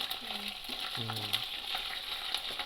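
Onions and eggplant hiss and sizzle in hot oil with a steady close frying noise, while a couple of brief tonal voice-like sounds rise over it early on.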